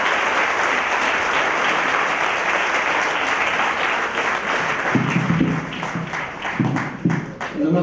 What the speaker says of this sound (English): Respected audience, can we have a big round of applause for Shri Kishore Diani?